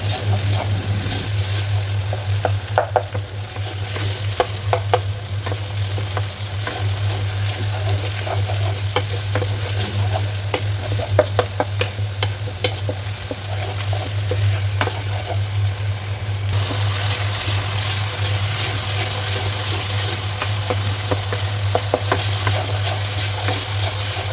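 Ginger and garlic paste fries with onions in a pan for a beef spleen bhuna, a steady loud sizzle with scraping stirs over a constant low hum from nearby kitchen equipment.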